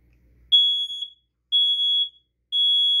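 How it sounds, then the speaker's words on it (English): A smoke alarm in a basement sounds three loud, piercing high beeps at an even one-second rhythm, each lasting about half a second, with silence between them. "Heads up, there's smoke in the basement. The alarm may sound. It's going to be loud."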